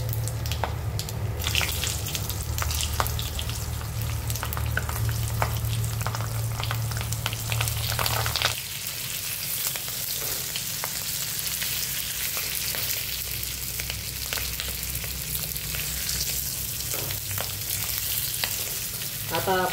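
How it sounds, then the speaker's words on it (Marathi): Stuffed capsicum peppers fry in hot oil tempered with mustard seeds, cumin, asafoetida and turmeric, a steady close sizzle with stirring scrapes, easing down partway through. "फोडणी देऊ आणि त्यात आपण भरलेल्या मिरच्या टाकून घेऊ।"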